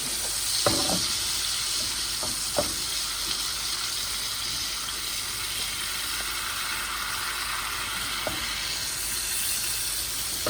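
Brussels sprouts sizzle steadily in a pan over a flame, a dense close hiss with a few sharp clicks and taps of stirring scattered through, with no voices.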